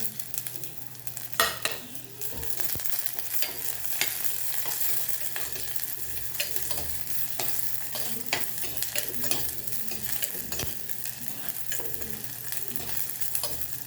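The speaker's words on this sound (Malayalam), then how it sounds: "ഇതിലേക്ക് ഒരു 3 പച്ചമുളക് നടുകീറിയിട്ട് ഇട്ടതാണ്, അത് നമുക്ക് ഇതിലേക്ക് ഇട്ട് കൊടുക്കാം." Three slit green chillies and onions fry in oil for a moringa leaf thalippu, with a continuous soft sizzle and repeated scraping stirs of a spoon in the pan, close by and alone without talk.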